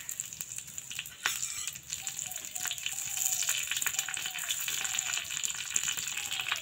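Dried red chilli and curry leaves fry in mustard oil in a ladle for dhokla tempering, producing a steady, close crackling sizzle with brief pops, growing slightly stronger midway.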